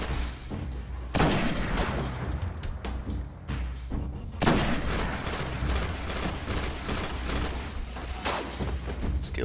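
Gunfire in the Destiny beta as a Hunter, a steady dense barrage of shots and booms that runs throughout, loud and continuous with heavier blasts surging near the start and the middle.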